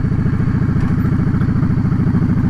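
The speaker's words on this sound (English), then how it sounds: "Harley Davidsons, they just have that low, deep rumble" Deep, loud rumble of a Harley-Davidson cruiser motorcycle engine idling up close, its uneven pulsing beat thumping steadily throughout.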